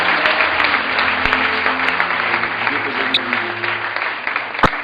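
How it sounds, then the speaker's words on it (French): A church congregation claps and cheers in sustained, loud applause that fills the room, with voices mixed into the dense clapping throughout. "On acclame le Seigneur pour recevoir le frère Samuel"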